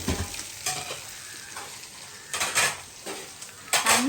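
Chicken for kadai sizzles as it fries in a pan, with a steady hiss broken by repeated scrapes and clinks of a utensil stirring against the metal.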